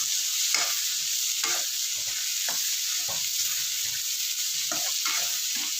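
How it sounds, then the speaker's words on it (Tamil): Tomatoes sautéing in a pan for Tamil-style potato kurma, a steady sizzle with repeated stirring scrapes at irregular intervals, close and even in level, no voices. "இது கொஞ்சம் வதங்கட்டும், தக்காளி வதங்கட்டும்"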